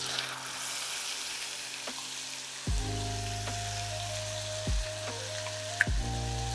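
Roasted ground paste for pepper kuzhambu hits hot oil and fries, a soft steady sizzle at low volume with a few faint clinks of a spoon, alone without talk.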